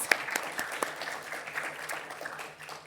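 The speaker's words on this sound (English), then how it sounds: "Please, let's give another round of applause for our amazing entrepreneurs." An audience applauds entrepreneurs at a conference, a steady bed of clapping of moderate loudness with a few sharper individual claps standing out, continuing alone without talk.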